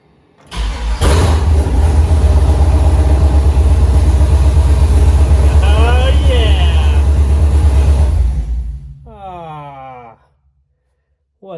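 A homemade trophy truck engine with a newly replaced fuel pump cranks and fires, running loud and rough for about seven seconds before cutting out, followed by a brief voice.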